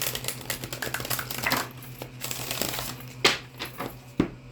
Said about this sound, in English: Now, I'm going to shuffle your cards here.